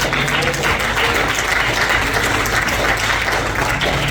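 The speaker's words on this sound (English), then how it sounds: "Let's give the Lord a hand clap." Church congregation claps together during a Sunday worship service, a steady dense wash of applause lasting throughout with no pauses.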